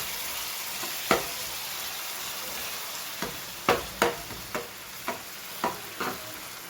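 Dabeli masala spice mix frying in oil in a pan for street-style Kutchi kadak, a steady soft sizzle broken by a series of sharper pops and spatters spaced a second or so apart.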